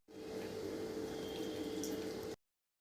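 Mashed bael fruit mixed with cold milk poured slowly through a strainer, a soft, steady liquid trickle lasting about two seconds before it stops, faint and close, with no talking.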